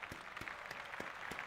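Faint, sparse clapping from a few hands, roughly evenly spaced claps over a second and a half, quiet and somewhat distant.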